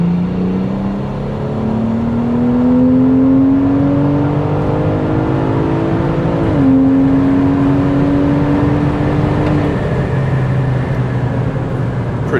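Big turbo BMW 340i tuned on pump gas pulls hard at full throttle in Sport Plus from 2,000 RPM, engine tone climbing steadily through a gear with a quick shift, then rising again, loud from inside the car.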